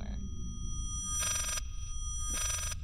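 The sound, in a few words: telephone ringing in the video game Layers of Fear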